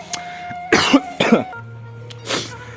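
Several harsh coughs in quick bursts, close by, followed by a throat clearing, with a low steady hum underneath.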